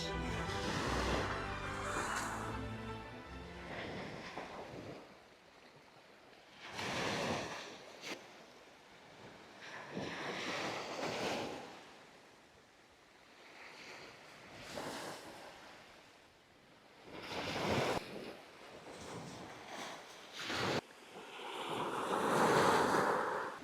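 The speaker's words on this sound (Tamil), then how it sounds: "இதுதான் அந்த பீச்." Surf washing onto a quiet white sand beach at Port Dickson, Malaysia, the waves rising and falling in repeated swells with wind buffeting the microphone.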